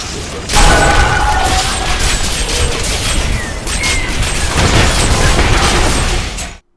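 Loud, continuous barrage of overlapping explosions and crashing impacts from the Crusader's Condemn skill in Diablo 3: Reaper of Souls, a dense rumbling blast sustained for several seconds before cutting off abruptly.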